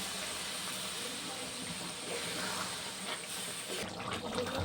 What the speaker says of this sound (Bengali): এটাতে এবার আমি পরিমাণ মতো একটু জল দিয়ে দেব।